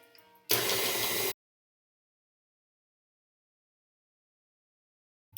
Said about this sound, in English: And then I'm going to run my mixer.